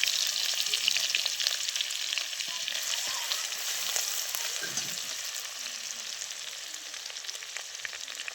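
Cumin seeds with chopped coriander and garlic fry in a pan on a wood-fired stove, giving a steady, fairly loud sizzle that holds evenly throughout with only faint stirring beneath it; no voices.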